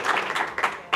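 Game-show studio audience claps to pick a contestant, a short, uneven round of applause with several louder surges in quick succession.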